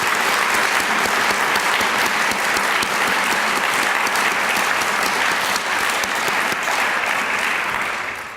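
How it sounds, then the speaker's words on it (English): Sustained applause from a breakfast audience honoring human rights awardees, many hands clapping in a dense, even roar that holds steady for about eight seconds and begins to fade at the very end. "Let's give all of our awardees today, those who are here and those who could not be here, another round of applause"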